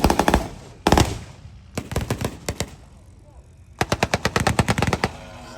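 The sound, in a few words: Stryker firing rockets at T-54 tank in battle reenactment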